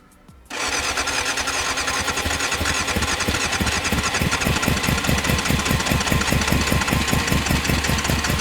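A 1989 Yamaha FZR600 motorcycle engine catches and starts outdoors, then runs on at a loud, steady, rapidly pulsing idle close by, with no talk.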